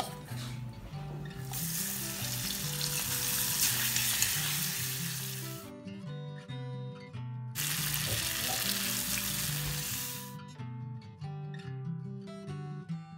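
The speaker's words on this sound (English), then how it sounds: "Heat a kadai, add some coconut oil and just fry the mussels for 2-3 minutes." Mussels fry in coconut oil in a kadai with a loud, dense sizzle in two long bursts, each ending abruptly into quieter stretches with a low background hum, close by and with no voices.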